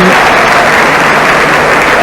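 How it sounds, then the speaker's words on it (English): At a 1980 English league football match between Grimsby Town and Wrexham, a stadium crowd applauds a substitution with loud, sustained clapping and a broad roar that stays dense and even throughout. "Decision greeted with total support by the crowd, and Kevin Kilmore comes on"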